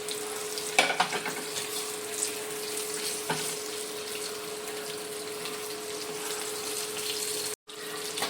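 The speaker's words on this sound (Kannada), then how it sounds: "ಇವಾಗ ನೋಡಿ ಇದು ಒಗ್ಗರಣೆ ಆಗ್ತಾ ಇದೆ" Curry leaves and a broken dried chilli sizzle in hot tempering oil for dal fry, a steady close frying hiss with a few brief clatters of stirring.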